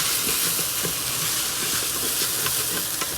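Spices are stirred into vegetable biryani in a pan, with a steady close-up sizzle and frying hiss and repeated soft scraping strokes of the spoon running throughout.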